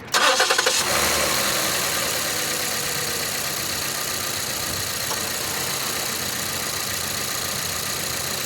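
A Ford Explorer's 3.5L EcoBoost engine, just fitted with new ignition coils, cranks briefly, catches, and settles into a steady, fairly loud idle heard up close.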